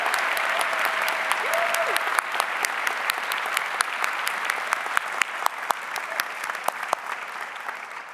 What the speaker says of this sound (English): Please give Lori McCulley a round of applause